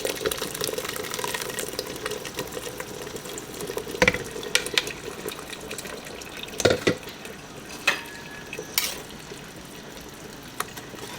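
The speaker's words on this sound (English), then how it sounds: "I'm gonna just strain it in there" Pozole rojo sauce trickles and drips steadily with soft scraping and clinking from a utensil pressing it through a mesh sieve, no talking.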